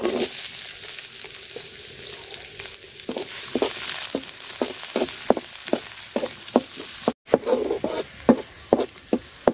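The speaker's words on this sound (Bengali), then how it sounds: "পেঁয়াজটা আমি লাল লাল করে ভাজা নিছি।" Chopped onions fry in oil alongside crisp-fried pond tilapia, with a continuous sizzle broken by repeated sharp stirring scrapes and taps of a spatula in the pan, close and clear with no talk.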